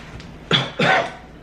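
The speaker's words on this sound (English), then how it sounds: "It looks like I still have this cough going on." Two quick, close coughs in a row, fairly loud, with no talking around them.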